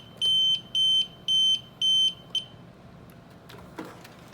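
A UPS battery backup alarm gives four long, loud electronic beeps in a steady rhythm, then a short fifth beep, followed by quiet room noise with a few faint clicks.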